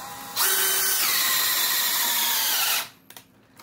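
A power drill spins a Harbor Freight Warrior 1-inch stubby ship auger bit at 1200 RPM into wood, a loud steady whine lasting over two seconds, its pitch dropping as it bogs, then cutting off to a few faint clicks.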